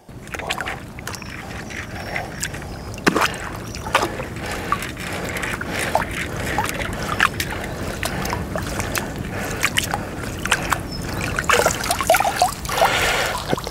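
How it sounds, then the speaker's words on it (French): Groundbait being rinsed through a sieve in muddy water while carp fishing: steady sloshing and trickling with scattered splashes and taps, fairly close, continuing throughout with no talk. "Donc on va passer le tamis à l'eau."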